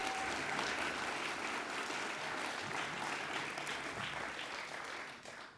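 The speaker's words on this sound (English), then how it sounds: "Please give Tim a round of applause too for all his work" Steady applause from an animal justice awards audience honouring a colleague, sustained and fairly soft, fading slightly toward the end.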